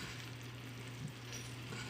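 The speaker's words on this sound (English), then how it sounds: "And then we're going to give it a nice stir" Rice with butter and salt sizzles quietly in a pan as it is stirred, a soft, even frying hiss with faint scraping and no voices.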